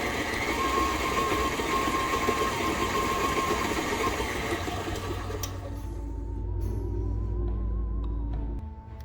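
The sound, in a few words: electric mixer mixing cake batter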